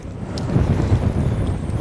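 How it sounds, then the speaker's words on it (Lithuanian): Strong wind buffets the microphone in low, rumbling gusts that rise and fall, with no talking, outdoors while smelt fishing in Finland. "Tas vėjas, koksai ta prasme žiaurus."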